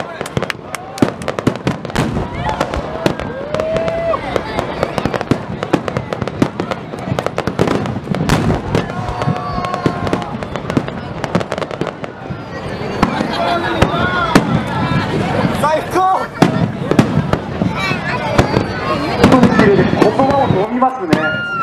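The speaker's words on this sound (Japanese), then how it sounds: "水中花火がですね" Underwater fireworks burst at the Yakeuchi Donto festival, a dense run of loud cracking pops and booming blasts over continuous crowd noise, with people talking throughout.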